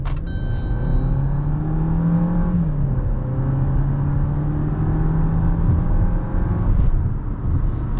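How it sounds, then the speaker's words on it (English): A 2024 Jeep Compass Limited accelerates toward 55, heard from inside the cabin as a loud, steady engine drone whose tone climbs, dips at a gear change, then climbs again over road rumble, with no talk. "Go ahead and give it some juice here up to 55."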